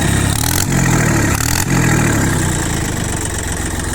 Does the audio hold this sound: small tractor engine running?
yes